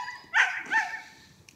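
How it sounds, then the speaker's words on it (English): A police K9 dog gives two sharp, close barks about half a second apart during a weapon search, followed by quieter whimpering tails. "right now he's gonna get a dog to come in to find that weapon right there"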